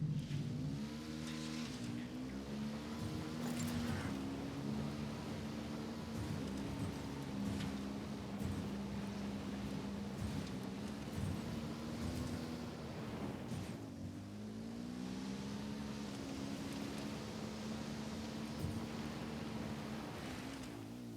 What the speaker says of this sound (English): I'm taking the bike.